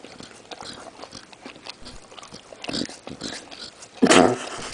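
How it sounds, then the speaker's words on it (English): A pet eating from a bowl, snorting and snuffling as it licks and chews: close, irregular wet mouth noises and breathy snorts with a louder burst near the end, no talk. "He's snorting."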